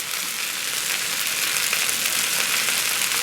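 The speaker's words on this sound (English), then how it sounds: "I'm going to let the wok do its work. Let it sizzle away." A steady, bright sizzle of rice frying in a hot wok continues without a break, close and fairly loud with no talking.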